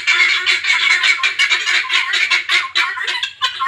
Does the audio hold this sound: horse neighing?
no